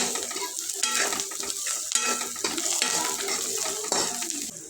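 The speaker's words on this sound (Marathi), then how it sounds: "कांदा चांगला सोनेरी रंगार परतून घ्यायचा आहे" Chopped onion with salt is sautéed in a pan until golden for a spicy eggplant curry, with a steady sizzle under repeated scraping strokes of a spoon against the pan, close and busy.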